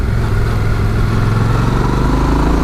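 Yamaha Ténéré 700 motorcycle fitted with Touratech progressive springs, ridden on a twisty mountain road from Chur to Arosa; a steady, loud low engine drone with wind rumble runs unbroken throughout, with no voices.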